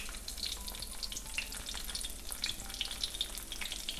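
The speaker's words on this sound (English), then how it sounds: "Our oil's nice and hot. We're gonna go in with our cutlets." Chicken cutlets fry in hot oil in a pan, giving a steady, dense sizzle with small crackling pops throughout, close and continuous with no talking.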